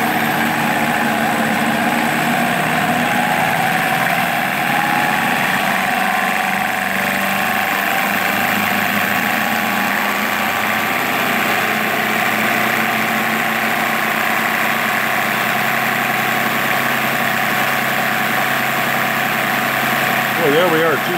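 A Sun distributor tester spins an Oldsmobile 4-4-2 distributor at about 2,000 RPM, making a steady, loud, close mechanical whine and hum that runs unbroken throughout.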